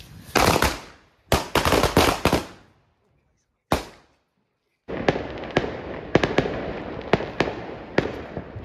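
Diwali firecrackers burst loudly close by: a few separate heavy bangs with decaying crackle and quiet gaps between them, then a dense run of sharp pops and crackles toward the end.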